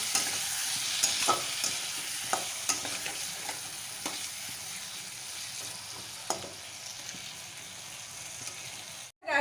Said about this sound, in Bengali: আবারও কিছুক্ষণ মশলাটা কিছুক্ষণ ধরে কষিয়ে নেব